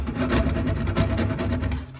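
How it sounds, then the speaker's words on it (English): Thin brass water pipe being cut under a kitchen sink while replacing a shut-off valve, giving a steady close rasping, scraping rhythm with repeated strokes over two seconds and no talk. "this brass is pretty easy to cut because it's so thin"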